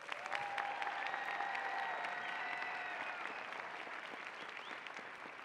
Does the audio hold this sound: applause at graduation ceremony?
yes